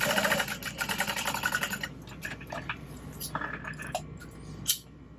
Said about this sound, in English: we are going to sew that into place